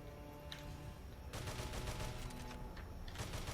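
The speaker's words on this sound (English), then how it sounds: "Then they come back and start shooting at me." Enemy gunfire in the Earth Defense Force: Iron Rain video game, a dense continuous rattle of rapid shots that grows louder and heavier partway through, steady and close.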